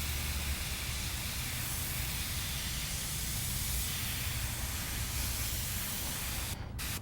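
Airbrush spraying paint through a stencil on a skull artwork, a continuous close, even hiss of compressed air that holds for several seconds and cuts off briefly near the end.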